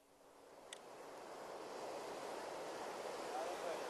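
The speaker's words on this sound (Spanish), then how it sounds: "Escuchad el sonido de este océano. Esas olas." Ocean waves roll in as a steady, broad wash of surf that swells gradually and then holds, soft and continuous with a little wind noise.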